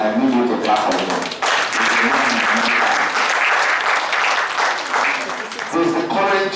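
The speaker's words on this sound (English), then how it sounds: "Please, I need you to clap for him." A conference audience at a plenary session on alternate sweeteners breaks into sustained, steady applause that fills the room, with a few voices briefly audible near the start and end.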